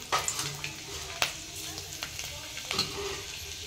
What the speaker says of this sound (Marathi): आता फोडणीत टाकून घेऊ.